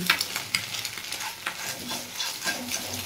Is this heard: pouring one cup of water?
no